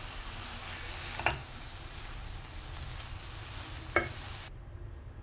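Vegetables stir-fried with green chili sauce and soy sauce, giving a quiet continuous sizzle with two sharp clinks of a utensil against the pan, then cutting to silence near the end.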